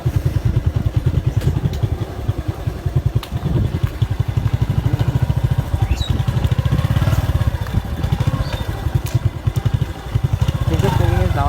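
A parked motorcycle engine runs steadily in a rapid, chugging putter, loud and close, with traffic clatter around it.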